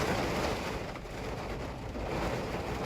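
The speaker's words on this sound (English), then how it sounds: "the rain started picking up and it was like drowning out the train horn sounds" Heavy rain outdoors, a dense continuous hiss and rumble that briefly eases, then swells again, filling the whole clip without voices.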